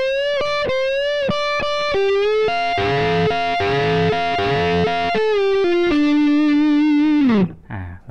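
A distorted electric guitar plays a slow solo line of sustained notes with string bends, ending in a downward slide; no voices.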